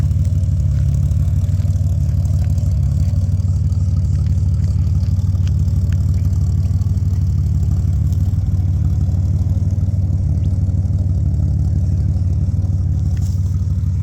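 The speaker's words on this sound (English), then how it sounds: "for an old 186 it still goes alright." The old 186 engine of a Holden HR idles nearby, steady with a low, even rumble and faint mechanical clatter, no voices.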